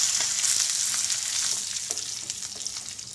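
Mustard seeds, dried chillies and curry leaves sizzle and crackle in hot coconut oil for a Kerala beetroot pachadi tempering, a steady loud frying hiss with scattered sharp pops, no talking.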